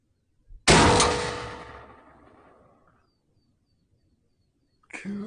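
A single sharp rifle shot fired at pigs during a thermal scope field test, loud and close, with a long echoing tail that fades over about two seconds, followed by quiet and a brief rustle.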